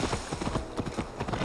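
Horse hooves clop quickly in Assassin's Creed Valhalla, a brisk, even run of hoofbeats over a dense game soundscape, moderately loud and close.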